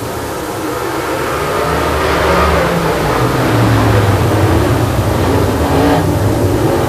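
Late model stock cars racing on an oval track, a loud continuous roar of engines rising and falling as the cars power down the backstretch, with no break in the noise.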